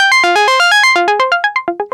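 A Moog Subsequent 37 hardware synthesizer preset run through effects in Ableton plays a quick plucky melodic sequence of bright, harmonically rich notes, rhythmic and steady, with the final notes turning short and staccato.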